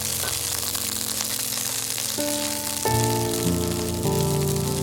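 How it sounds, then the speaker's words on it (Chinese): Scallion, ginger and garlic sizzling in hot oil in a wok, a steady loud frying hiss throughout, with some tonal background music and no talking. "先将葱姜蒜爆香"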